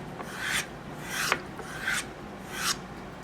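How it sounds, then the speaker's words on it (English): A knife is buffed along a leather strop mounted on a wood board and rubbed with jeweler's rouge. Four soft, close rasping strokes sweep past one after another in an even rhythm, with no talking. "The next step is really important, and that's to buff the knife. This is a leather strop."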